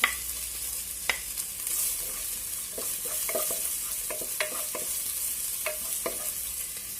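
Ginger garlic paste sizzles in hot oil with a steady hiss, and a utensil scrapes and taps through the pan in scattered strokes.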